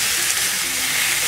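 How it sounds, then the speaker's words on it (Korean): Steady, close sizzling and hissing of chicken frying skin-side down in a hot oiled pan, a continuous bright crackle with no talking. "살짝이면 껍질을 밑으로 해가지고 구워주시면 될 것 같아요"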